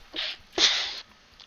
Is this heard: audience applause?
no